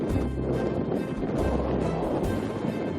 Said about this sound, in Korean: 바람까지만 심하게 부니까 정말 걷기가 힘들어요